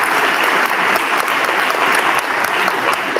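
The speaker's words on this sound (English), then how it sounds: "I guess we can clap," A school awards-night audience claps steadily for senior National Honor Society members called forward, a dense, continuous wash of many hands throughout with no talking over it.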